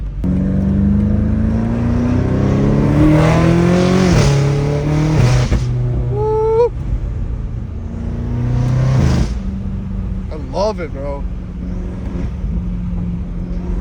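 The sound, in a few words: straight-piped V8 car engine revving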